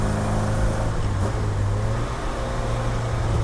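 An Alfa Romeo GT Junior driven hard, its engine droning steadily and loudly from inside the car with a constant low rumble and road noise throughout.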